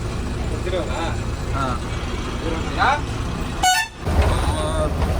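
Dense heavy vehicle traffic on a crowded road, a steady engine rumble with a few short car horn toots and one louder air-horn blast near the end, with people talking over it.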